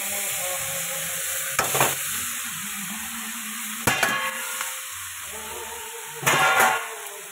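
Tomato, potato and cabbage fry together in a pan with a continuous close sizzle, broken three times by brief louder scraping bursts as a utensil stirs the vegetables.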